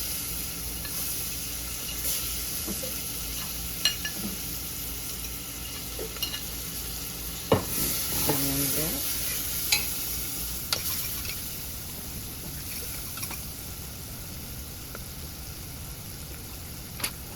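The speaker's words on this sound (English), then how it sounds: "And then we're going to go in with our onions." Onions frying in a pan for a vegan coconut cream chickpea curry, a steady moderate sizzle with occasional sharp utensil clicks and a brief burst of stirring midway.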